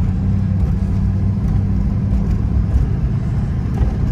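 A 2005 Chevy Silverado pickup with an Allison automatic transmission drives along with a steady low engine rumble and road noise, loud and continuous, with no distinct shift audible.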